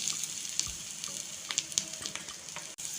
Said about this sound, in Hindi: इन सबको अच्छे से भून लेंगे